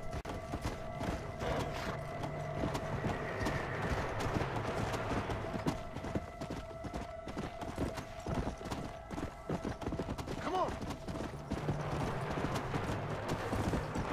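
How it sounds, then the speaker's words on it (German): A horse gallops in the video game Red Dead Redemption: Undead Nightmare. Steady, rhythmic clip-clop hoofbeats run throughout with a low game ambience, and there is a faint neigh partway through. "das Pferd rennt zwar da schneller"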